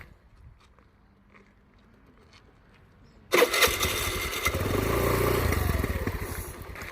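A scooter engine starts up and revs as the throttle is gradually opened during a beginner riding lesson, a sudden loud, steady roar that cuts in after quiet ambient sound and holds close for several seconds.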